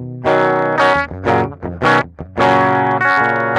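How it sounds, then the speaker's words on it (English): Heavily distorted electric guitar through a Flamma FS06 preamp's Mesa Boogie Mark V amp model plays a short riff of punchy chords and notes, with a thick, saturated tone and brief gaps between phrases. "Amp 6 is based off the Mesa Boogie Mark IV. Mark V, sorry."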